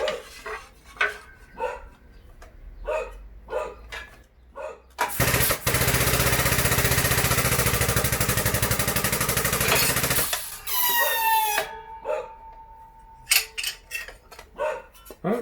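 An Edwards multi shear mounted on a Harbor Freight 20-ton shop press cuts a 1/8-inch, roughly 5.5-inch-wide aluminum strip, a loud continuous grinding rasp lasting about five seconds, framed by short bursts of nearby speech before and after.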